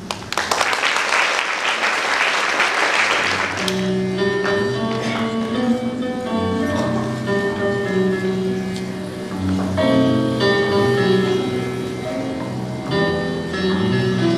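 Audience applause at a Vagharshapat event honoring the poet Hamo Sahyan: a dense burst of clapping for about three and a half seconds, then it gives way to music.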